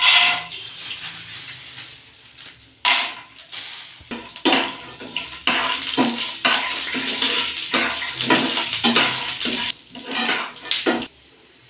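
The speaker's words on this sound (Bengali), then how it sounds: "চাউমিনের জন্য বাদাম ভেজে।" Peanuts fry in white oil in a pan, heard as repeated loud scraping and clattering of a spoon stirring against the metal over a bubbling sizzle.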